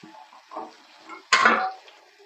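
A metal lid is set on a pot of cooking mixed vegetables, a sharp clattering clank after soft light clinks, then fading ringing, close and alone.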